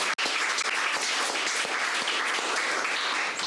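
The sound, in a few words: audience applause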